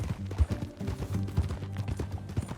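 Horse hooves clip-clop in an uneven walking rhythm, fairly close, in the Red Dead Redemption 2 video game, with faint game sounds underneath and no talking.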